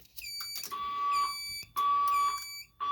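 A fire alarm system sounds in repeated pulses, each a steady high electronic tone layered with a harsher buzzing horn, three bursts separated by short gaps, loud and with no talking.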